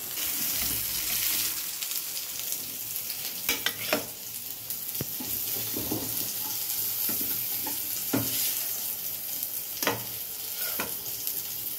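Fish paturi wrapped in a gourd leaf fries in a pan, giving a steady oily sizzle broken by scraping and clattering as it is turned, with no talking.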